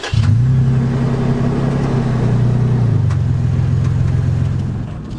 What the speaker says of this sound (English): Right now I'm driving the kitted out 4Runner from Overland Expo.